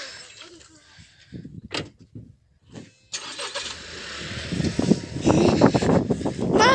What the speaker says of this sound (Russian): И папа хочет завести машину.